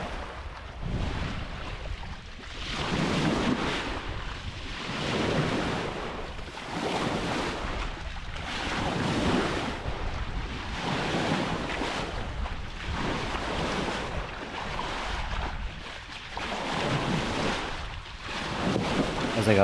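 Steady ocean waves wash and surge around a sailboat at sea, with heavy wind buffeting the microphone in a continuous, rolling roar with no voices.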